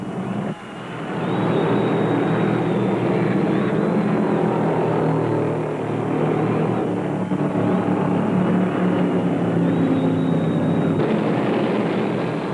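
Field of NASCAR stock cars in the 1975 Carolina 500, a continuous loud engine roar that swells and fades slightly as the pack passes, heard from a distance.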